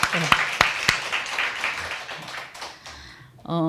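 A congregation at a Korean church summer retreat worship service claps to glorify God, a few sharp, close claps at the start followed by a rustling wash of applause that gradually fades, with a voice breaking in at the end.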